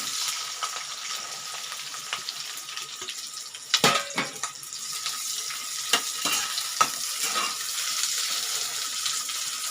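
Chopped green chillies and onions frying in hot oil in a pan, a steady sizzle with a few louder stirring clatters and scrapes scattered through, close up and with no talk.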